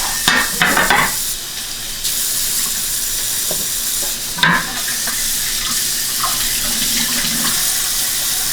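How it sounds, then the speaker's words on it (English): A kitchen tap runs steadily while something is rinsed before steak is cooked. A few clatters come early, then a constant, close hiss of flowing water with small splashes throughout. "Gotta wash this and get it ready for steak."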